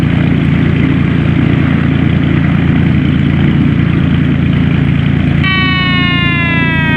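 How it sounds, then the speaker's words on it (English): Steady rising electronic beeps from a glider's variometer in a flight simulator game chime in near the end over a loud, constant rushing drone of wind and engine noise during an aerotow takeoff. "That beeping you're hearing is the variometer."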